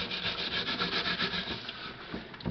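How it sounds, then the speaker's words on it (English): Brisk back-and-forth scrubbing of black mold off the rough surface of a dried gourd, a steady rhythmic rasping rub heard close and fairly loud, with no talking. "make sure you get as much of this black mold off as possible. That involves some extra scrubbing"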